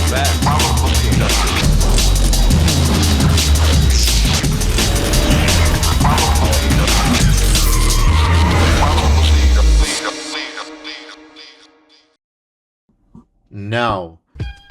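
Racing video game car, loud engine roar and tire skidding under music for about ten seconds, then fading to near silence before a short rising whine near the end.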